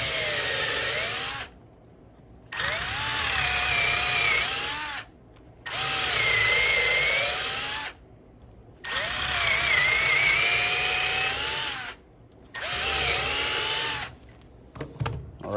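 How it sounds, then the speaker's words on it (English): A power drill bores holes in wood while the bit is worked in and out, giving five loud whining bursts separated by short silent pauses. "And I'm moving the drill bit in and out"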